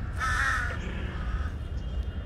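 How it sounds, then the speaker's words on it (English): A crow in Lumpini Park, Bangkok, gives one harsh, fairly close caw at the start, then fades into a low park rumble with faint distant bird sounds. "Look at the crow."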